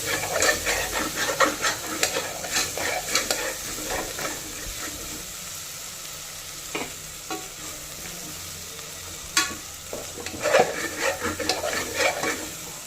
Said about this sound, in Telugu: ఇవన్నీ వేసి బాగా కలబెట్టాలి